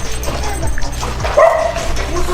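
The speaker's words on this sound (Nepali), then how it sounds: "चटपट पानीपुरी खाएर सरको माथि भुक्दैछ" A bulldog barks and yips in several sharp, close bursts, loud against a busy background with faint voices nearby.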